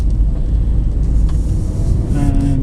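A Toyota Prius T Spirit hybrid car pulls away after being shifted into drive, giving a loud, steady low rumble with road and cabin noise throughout.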